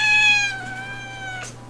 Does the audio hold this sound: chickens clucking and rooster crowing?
no